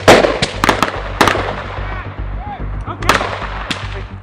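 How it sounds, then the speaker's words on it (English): Gunshots ring out in a shooting drill, sharp reports in quick bursts with pauses between them, each loud and close with a short echo, while voices speak between the volleys. "4 rounds. Headshots this time, Corey, if you can."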